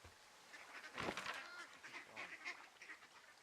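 Duck-like quacks and honks from the video game Firewatch, a cluster of several calls at moderate distance, fairly faint and repeating irregularly over a quiet background, with no talking.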